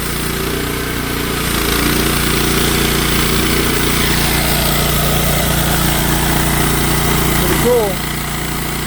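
A Wood-Mizer LX55 sawmill runs its blade through a log for the first level cut, a loud steady engine drone and whine that holds throughout, with a brief spoken word near the end.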